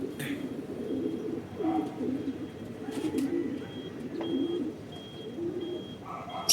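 Racing pigeon landing at a loft during a race toss, heard amid outdoor ambience with soft cooing pigeons and faint bird calls, while someone talks nearby.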